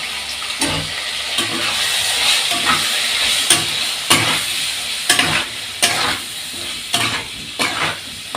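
Ginger-cumin paste and turmeric sautéing in a pan: a loud hissing sizzle runs throughout while a spoon scrapes and knocks against the pan at irregular intervals.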